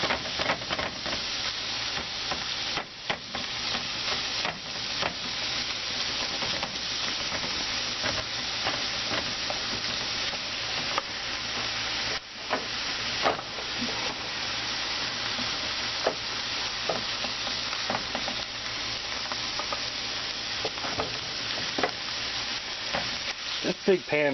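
Ground meat fries in a big pan on a stovetop burner with a steady, close sizzle and hiss, broken by occasional scraping and stirring clicks, and no voices.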